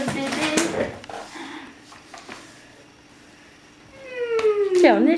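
A kitten gives a short, rising meow near the end, heard after a stretch of clattering household noise and faint background voices.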